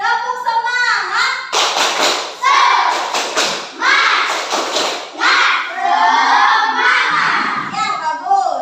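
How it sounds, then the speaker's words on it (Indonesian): Schoolchildren in a classroom lesson perform the 'tepuk semangat' clapping chant, with rhythmic bursts of claps, thumps and loud, excited group shouting close by. "Coba tepuk semangat."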